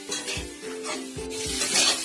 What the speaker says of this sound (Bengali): এটা বারবার এভাবে নাড়তে হবে।